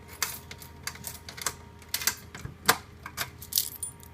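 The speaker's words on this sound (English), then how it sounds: "So get your keys." Slot machine keys jangle and clink in short, close metallic bursts at an irregular rhythm, with no voices over them.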